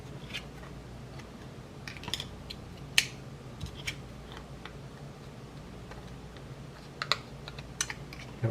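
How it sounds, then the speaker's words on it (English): Small Leatherman multitool scissors snip in a handful of faint, crisp clicks spread unevenly over several seconds in a quiet room. "Scissors tool."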